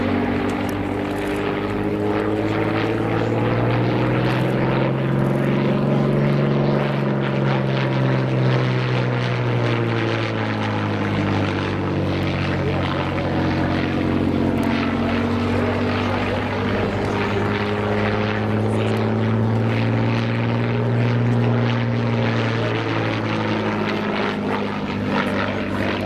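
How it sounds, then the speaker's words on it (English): Single-engine propeller aircraft performing a flying display at RAF Cosford, its loud steady engine drone rising and falling in pitch as it passes and manoeuvres overhead, continuous throughout with no talk. "watching this aircraft going through its paces"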